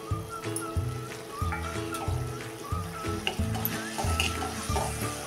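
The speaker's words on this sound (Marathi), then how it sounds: "त्यामध्ये आता ह्या शेवया टाकून घ्यायच्या आहेत" Vermicelli stirred into hot caramelised sugar syrup in a pan, giving a steady sizzle with repeated scraping and stirring throughout, fairly close.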